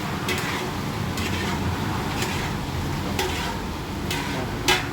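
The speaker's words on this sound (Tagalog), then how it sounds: "Halo-haloin lang natin yan." A spoon stirs dinuguan, a pork blood stew with papaya, in a pot, giving a steady sizzling bubble broken by periodic scraping clinks against the pot.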